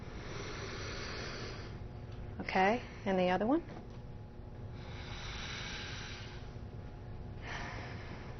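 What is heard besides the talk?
deep sniffs through one nostril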